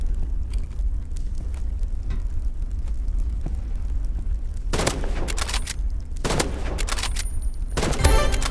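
Sniper rifle gunfire in the Roblox game Rivals: a few loud, sharp bursts of shots break through a low, steady game rumble, coming in clustered volleys toward the end.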